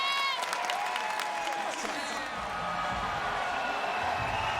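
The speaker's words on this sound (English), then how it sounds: "Cheyanne Bowers and her corner goading this Sanford Pentagon crowd in Sioux Falls, South Dakota to some more noise." Arena crowd at a PFL MMA fight at the Sanford Pentagon in Sioux Falls, South Dakota, roaring and whistling with cheers and whoops in a steady wash of distant noise.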